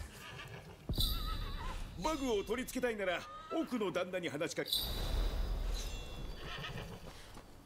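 Horse neighing in the Rise of the Ronin video game: a short whinny near the start, then game dialogue in Japanese carries over most of the scene with ambient background.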